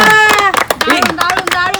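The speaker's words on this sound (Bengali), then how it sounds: "জোরদার তালিয়া সুস্মিতা দিদির জন্য" Applause for Susmita during a funny game of sorting red eggs from white eggs: bursts of hand clapping mixed with loud, excited voices talking over it.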